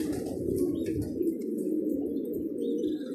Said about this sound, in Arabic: يعني حمام حلو يا اخوان بصراحة، والله العظيم حمام حلو